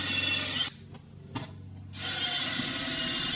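A drill bores a deeper countersink hole into a 2x4 to make room for a screw, a loud, continuous grinding whir close by, briefly dropping out for about a second in the middle before resuming at full strength.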